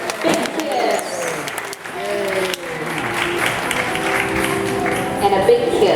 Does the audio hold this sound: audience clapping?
yes